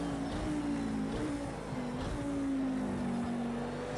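A race car engine in the Project Cars 2 VR racing game holds a high, strained whine that rises and dips slightly in pitch, a steady continuous drone throughout.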